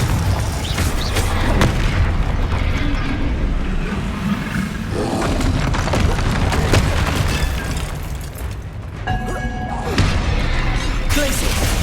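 Spell explosions in the Hogwarts Legacy game, Confringo and Bombarda blasts going off in quick succession, loud booming bursts and roaring rumble layered with combat effects and occasional voice.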